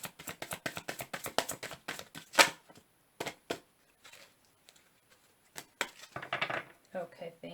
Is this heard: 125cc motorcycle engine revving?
no